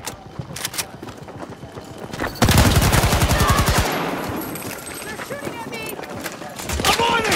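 Rapid automatic gunfire in Battlefield 2042, dense bursts throughout with a loud sustained volley in the middle, mixed with battlefield noise and voices talking over it.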